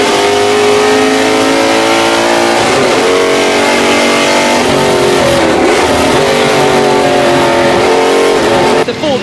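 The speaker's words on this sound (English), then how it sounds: "Going to try and use the grunt of the Ford Mustang down the straight and gets the lead." A Ford Mustang Boss 302 race car accelerating hard at Goodwood, its loud engine note climbing through the gears with quick shifts, heard close and continuous, with a commentator talking over it.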